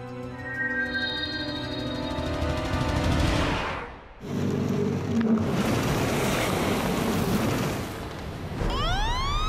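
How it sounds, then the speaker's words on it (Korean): Ocean swell and breaking waves heard from a boat at sea, a loud churning wash with wind buffeting the microphone, a brief dip midway before the surge returns, some tonal engine hum underneath. "파도가 좀 치네. 너울이 있네."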